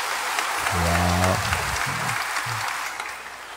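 A congregation claps at a Simbang Gabi Sunday Mass in church, a steady broadband patter of many hands in a large room, partly overlapped by a voice speaking over it.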